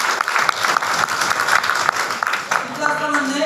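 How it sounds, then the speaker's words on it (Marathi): Applause from a lecture audience at a student National Service Scheme day talk, a steady patter of many hands clapping for about three seconds before fading into quieter room sound. "शाबास त्यासाठी टाळ्या वाजवा"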